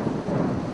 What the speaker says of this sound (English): The loud roar of thunder follows lightning.